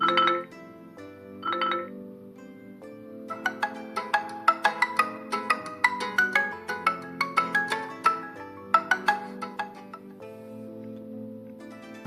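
A POCO F6 phone speaker plays a ringtone, a bright chiming melody of quick plucked notes repeating over a soft sustained backing, close and clear with no talking.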